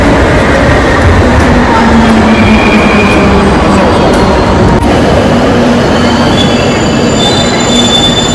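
A Kolkata metro train pulls into a station with loud, continuous wheel squeal and rumbling rail noise that fills the whole stretch, close by and steady, with sustained high-pitched screeching tones.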